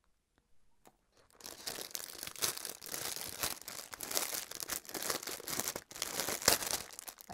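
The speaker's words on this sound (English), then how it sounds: "I'm sorry for the crinkling." Packaging crinkles and tears loudly while a diamond painting kit is unboxed, a steady run of close crackling and rustling after a quiet first second, with a few brief pauses.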